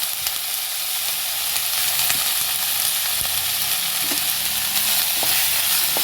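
Chopped tomatoes frying in a pan for mushroom gravy give off a steady, loud sizzle with constant hiss and small crackles, heard alone with no talking.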